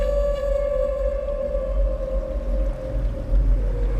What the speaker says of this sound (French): Et on entend les baleines et tout.